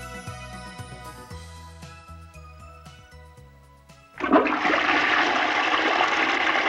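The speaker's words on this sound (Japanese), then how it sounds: "2階のお手洗いの音とかも全部聞こえてた" A toilet upstairs in a thin-walled house flushes with a sudden rushing gush of water that continues steadily, cutting in after a few seconds of soft music playing in the room.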